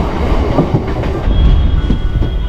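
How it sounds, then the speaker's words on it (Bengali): A train pulling into Naihati station in West Bengal rumbles loudly and close by, with continuous heavy wheel clatter and a thin high squeal running through, and no voices. "আমাদের ট্রেন এখন তোমার নৈহাটি স্টেশনে জাস্ট এন্ট্রি করছে"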